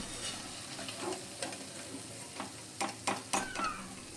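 Urad dal fritters crackle and sizzle in hot oil while being turned over in a pan, a low steady frying hiss broken by irregular sharp clicks and scrapes of the utensil against the pan.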